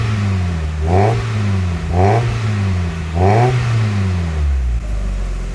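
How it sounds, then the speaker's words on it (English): Car engine running on thick oil, revved in three repeated swells that rise and fall about a second apart before settling back to a steady idle, loud and close with no talking. "Engine sounds alright, even with some thick ass oil."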